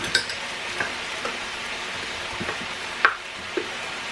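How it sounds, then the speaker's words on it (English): Roughly a tablespoon of butter melting in a pan, a soft continuous sizzle with occasional sharper pops and faint clinks of a utensil. "we're just going to wait for the butter to melt"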